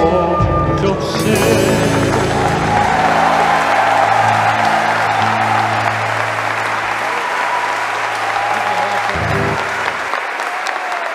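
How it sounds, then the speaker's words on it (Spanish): An audience applauds steadily inside Posadas cathedral after a zamba performance at a creole mass, with dense sustained clapping, a few faint cheers and a lingering musical chord beneath. "Llévese, maestro, este aplauso"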